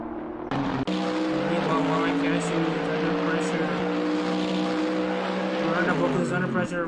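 GT3 race cars roar at the Red Bull Ring during a racing series event, a loud sustained engine drone with shifting pitch, heard under continuous commentary.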